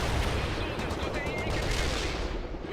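Unbroken, dense weapon fire from the World in Conflict video game, loud and close, a rapid continuous burst with no gaps across the whole stretch.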